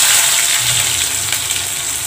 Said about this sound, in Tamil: இந்த பக்கம் கடுகு வெந்துருச்சு, வச்சிருச்சு